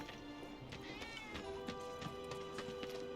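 A cat meows in Final Fantasy VII Remake, a few short mews rising over steady game music and ambient tones, fairly close and clear.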